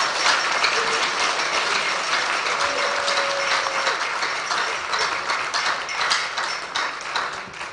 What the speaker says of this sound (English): Can we clap for the parties, please?